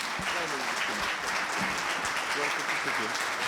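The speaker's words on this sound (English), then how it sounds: "Please give his general the biggest round of applause." Audience applause following the introduction of a keynote speaker at a formal talk, a dense, steady clapping from a large crowd that carries on throughout, with voices mixed in underneath.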